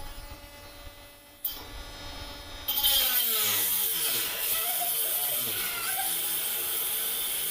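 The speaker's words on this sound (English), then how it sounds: "12 volt max lithium grinder." 12-volt lithium cordless grinder switched on and running steadily, a loud close whine that ramps up and holds, with a shift in pitch as it bites into work on a vintage children's wooden rocking chair.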